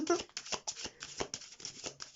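A classic Waite tarot deck is shuffled by hand in repeated quick riffling bursts, close and fairly quiet, with a soft voice faintly present at the start.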